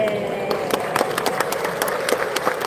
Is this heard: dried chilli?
no